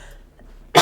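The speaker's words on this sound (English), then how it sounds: "I'm gonna cough again." A single short, loud cough from a person, heard alone after a moment of near silence during a horror adventure game.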